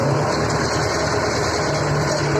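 Skaut 404S tractor engine running in second and third gear, a steady, loud, low droning hum that holds evenly for the whole stretch with no talk over it.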